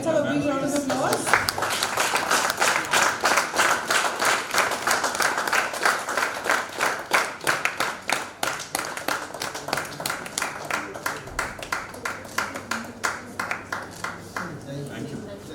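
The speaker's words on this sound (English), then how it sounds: "let's have a big round of applause" An audience at a students' centre launch event claps in a long round of applause, dense at first, then thinning into sparser, slower individual claps that fade over about fifteen seconds.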